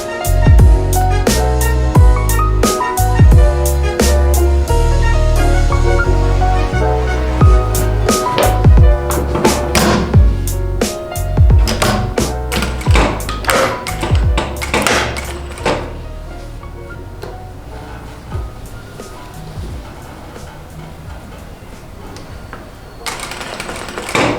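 A sewing machine runs close and loud while stitching the seam of a men's round-neck T-shirt, giving a dense mechanical whirr with sharp knocks, then easing into sparser, quieter clicks and handling noises.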